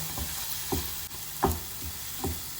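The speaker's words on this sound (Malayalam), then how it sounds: "അതേപോലെ ഇഞ്ചി വെളുത്തുള്ളി പേസ്റ്റ്. ഇതിന്റെ പച്ചമണം പോകുന്നത് വരെ വഴറ്റുക." Ginger garlic paste sautés in a pan with a steady low sizzle, broken by four or five soft scraping stirs spaced roughly evenly; nearby and fairly quiet, with no voices.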